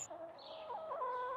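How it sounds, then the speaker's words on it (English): Capons, castrated roosters, clucking and calling in a steady run of bird vocalizations, fairly faint but continuous, with no talk. "he came across some birds called capons"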